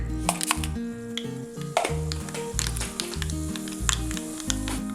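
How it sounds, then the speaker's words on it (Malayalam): Mustard seeds sizzle and crackle in hot coconut oil in a heated pan while a Kerala-style meen peera is being made, a steady close fizz with sharp pops over faint tonal background music. "എണ്ണ ചൂടായി കഴിയുമ്പോൾ 1/2 ടീസ്പൂൺ കടുക്,"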